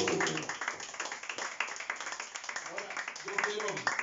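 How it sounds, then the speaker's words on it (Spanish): A church congregation claps in a quick, uneven rhythm of distinct hand claps, with voices talking and calling out over the clapping. "Dale un aplauso, Señor."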